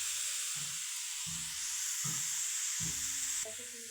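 Sliced onion, garlic and chilli fry with cabbage and carrot in a pan for veg momo filling, a steady close sizzle and hiss broken by four soft scraping stirs, no voices.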